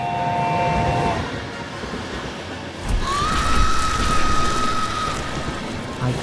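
A night train pulls into a station in a horror animation, a rumbling rail roll with rain-like hiss and a sustained horn-like tone sounding midway.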